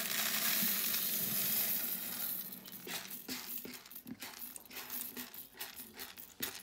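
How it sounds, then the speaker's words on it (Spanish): Dry noodles tipped through the lid opening of a Monsieur Cuisine Connect into boiling vegetable broth for fideuá: a steady bubbling, sizzling roar at first, then scattered light taps and clatters as the pasta drops in, close by. "ya está hirviendo el caldo, así que voy a añadir por el bocal los fideos"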